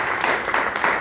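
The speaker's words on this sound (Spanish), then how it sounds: "Damos un aplauso al Señor por su palabra." A church congregation claps together in praise, a loud, even wash of applause with a few stronger surges and no talking over it.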